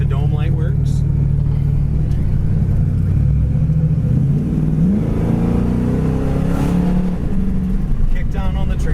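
A 1968 Ford Mustang's engine runs steadily up close, a low rumble idling that rises as the motor is revved near the middle and settles again, with no one talking.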